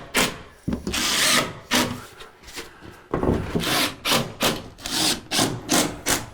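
Drywall goes up on a living room arch with a run of short, bursty power-drill screw drives and scraping handling noises, repeated rhythmically at close range.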